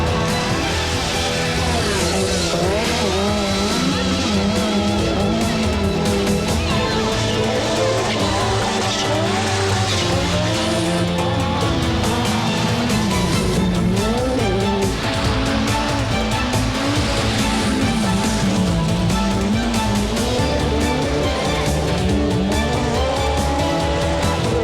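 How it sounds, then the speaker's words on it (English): A 1985–86 Audi Quattro rally car engine revs and roars continuously at Pikes Peak, rising and falling, with tires squealing and skidding through turns under left-foot braking. "left foot braking to turn the car, as Walter Rural demonstrates here."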